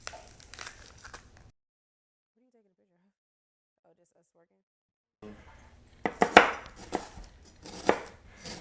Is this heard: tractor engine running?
no